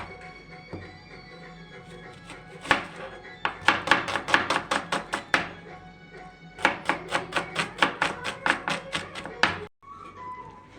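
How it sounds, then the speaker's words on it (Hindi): A knife chops tomatoes and onions on a board in two quick bursts of rapid, even strokes, close and crisp, with a short pause between the bursts and scattered soft knocks before them. "टमाटर कट गया, प्याज कट गया"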